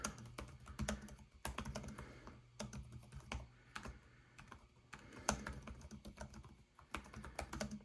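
Rapid clicking of Lenovo ThinkPad T14s Gen 4 laptop keys in steady bursts of typing, close and fairly quiet, with brief pauses between runs.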